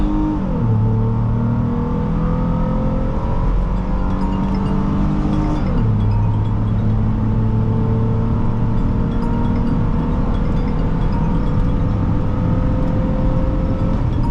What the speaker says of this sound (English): let's do our first acceleration test, see how she does